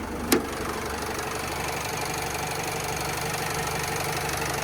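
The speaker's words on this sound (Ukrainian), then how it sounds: "Чути, як авто працює." A 2010 Renault Trafic van's 2.0-litre diesel engine idles steadily with a low, even rumble and faint knocking, close up, after a single short click near the start.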